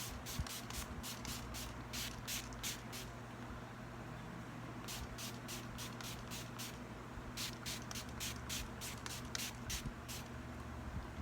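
Kiss Beauty setting spray misted onto a face in quick bursts, short bright hissing spritzes in clusters of several pumps, fairly faint over a low background hum.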